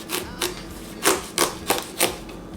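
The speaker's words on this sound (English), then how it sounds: "So I'm just gonna cut it up right now." Knife cutting through food on a cutting board, producing several crisp, separate chops at an uneven pace. They are close, and no one speaks.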